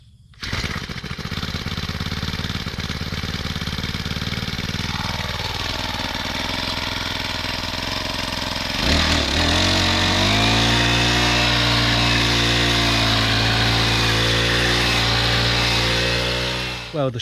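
Honda petrol engine, the machine used for clearing overgrowth on a rural farm, runs loud and steady throughout, its tone shifting as it works under load, then settling into a strong, even drone with a low hum.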